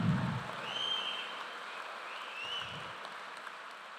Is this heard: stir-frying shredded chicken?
no